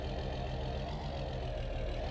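A tractor engine in Farming Simulator 19 idles steadily, a continuous low mechanical rumble that stays even and fairly loud throughout with no other sounds over it.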